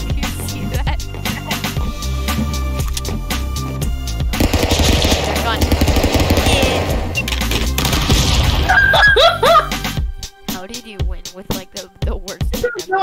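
Rapid gunfire from the stick figure brawler Stick Fight, dense bursts and single shots layered over game music and effects, loud and continuous, with brief exclamations from players and a sparser stretch near the end.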